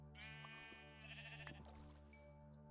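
A sheep in the video game Thaumaturge lets out one long, quavering bleat, clear and close over a steady humming in-game background, trailing off with a few soft clicks.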